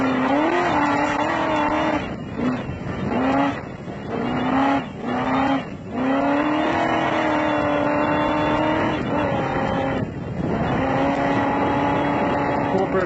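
Race car driven flat out around a circuit at a corporate track day in South Africa, reaching about 160 km/h and thrown sideways through a corner. The engine drones and howls loudly, with repeated dips and rising revs as it shifts and accelerates.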